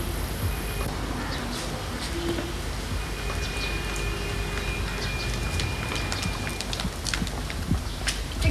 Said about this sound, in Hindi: तो बारिश शुरू हो गई